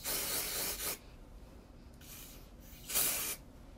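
Dry shampoo aerosol sprays onto hair in short hissing bursts, one near the start, a fainter one midway and a sharp, loud burst toward the end, with quiet pauses between.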